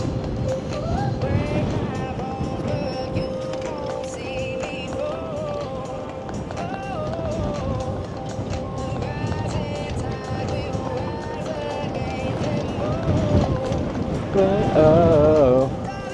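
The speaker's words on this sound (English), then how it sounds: "Oh, breezy." Wind gusting outdoors, buffeting the microphone with a continuous rough rumble that swells and fades, strongest near the end, with voices talking over it.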